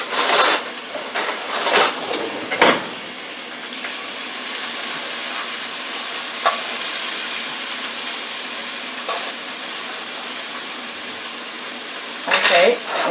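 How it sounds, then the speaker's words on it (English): Squash with raisins gets broken up and mixed in a pot, a utensil scraping and clanking against the pot in short bursts over a steady hiss of cooking, with no speech. "Okay, now I want to break that up and mix it up a little."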